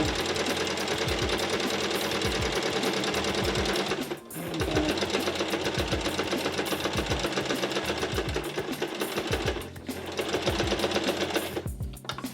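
Sewing machine running steadily while stitching the handle of a simple tote bag, a continuous rapid mechanical rattle with two brief pauses before it resumes, loud and close.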